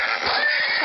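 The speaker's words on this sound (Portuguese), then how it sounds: "Esse daqui foi o meu primeiro cavalo." A horse on a farm lets out a loud, close whinny, one sustained, quavering neigh filling the whole short moment.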